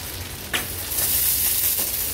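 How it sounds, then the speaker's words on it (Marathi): Hot oil tempering of dry red chillies and curry leaves poured over cooked vegetables for a veg thali, a sudden sharp sizzle burst followed by a steady loud hiss that continues to the end. "वरून ही सुकी मिरची आणि कढीपत्त्याच्या पानांची फोडणी द्यायची आहे भाजीला"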